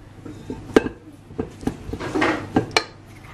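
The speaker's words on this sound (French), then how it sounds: "Et je vais continuer à mélanger" Cookie dough stirred in a bowl, heard as a handful of close, irregular scrapes and clinks of a utensil against the bowl's side, with a soft smeared scraping in between.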